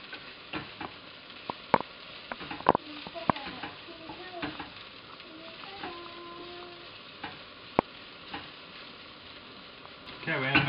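Shredded cabbage and potatoes fry in a pan for Irish colcannon fish cakes, a soft steady sizzle under scattered clicks and scrapes of a utensil stirring, fairly quiet and close, with no talking.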